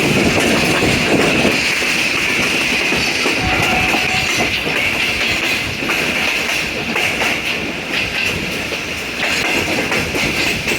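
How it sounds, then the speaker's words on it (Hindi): A two-coach train passes on the down line with a loud, continuous rumble and a rattle of rails. The noise stays close and steady with no voices. "डाउन साइड पे 2 बोगियों वाली ट्रेन"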